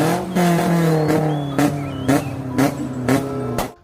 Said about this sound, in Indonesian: Wehehe, ada mobil balap.